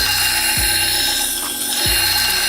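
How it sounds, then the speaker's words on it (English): A reversible disc grinder runs with a loud, steady high-pitched whine while sharpening a knife edge, with two brief low thumps as the blade meets the wheel. "the good thing about a disc grinder like this is that it's reversible"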